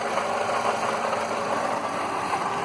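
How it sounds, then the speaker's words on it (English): A Mercedes-Benz CLK 230 Kompressor engine runs at a steady idle with the bonnet open, giving a continuous close hum with a faint rhythmic tick, even and unbroken, with no voices. "I've already popped the bonnet and got the engine on"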